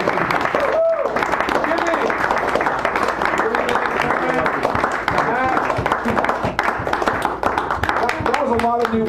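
Audience applause for a poet at a café poetry reading in San Francisco, a dense, steady wash of clapping lasting several seconds, with some voices mixed in.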